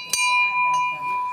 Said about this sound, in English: So it's a ship's bell, isn't it?